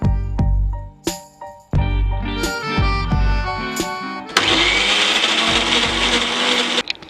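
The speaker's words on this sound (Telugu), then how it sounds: "కలిపేసి మళ్ళీ మిక్సీ పట్టాలండి" A mixer grinder blends gongura chutney paste in short loud pulses, the motor whirring up and cutting off several times, then running in one long continuous grinding burst close by, with no talk.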